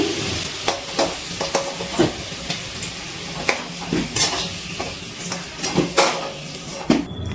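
Potato pieces frying in hot oil give a continuous close sizzle, with frequent scraping and clattering stir strokes of a utensil against the pan at an uneven rhythm, fairly loud, with no talking.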